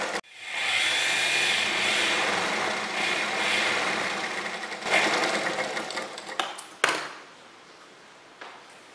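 Sewing machine running a plain stitch along a folded seam of an angrakha kurti, a steady close whirr for most of the clip that slows into short bursts and stops near the end.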